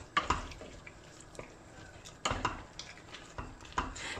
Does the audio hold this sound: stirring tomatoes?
yes